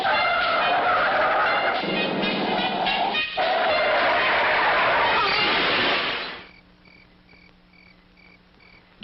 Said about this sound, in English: To avoid the other car, I skidded, lost control, and turned over.